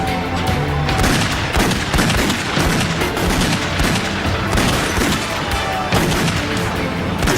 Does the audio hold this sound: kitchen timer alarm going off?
no